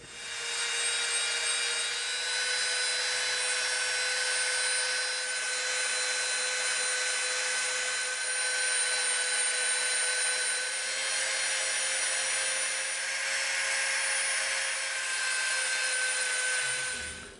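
A power tool grinds a bevel into a sheet of EVA foam for a Predator helmet build, a steady continuous whine with rough abrasive texture that holds at close range for the whole stretch, with no pauses.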